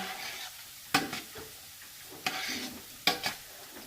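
Championship chili with diced tomatoes being stirred in a pot: three scraping, sloshing spoon strokes over a steady soft simmer, close and moderately loud, with no talking.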